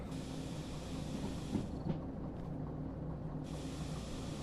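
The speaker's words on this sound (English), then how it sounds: "You hear that? That's the train wanting to derail." Rumbling rattle and clatter of a train in the railway game Derail Valley, moving fast on the edge of derailing; a continuous low mechanical drone with brief dips and metallic knocks, no voices.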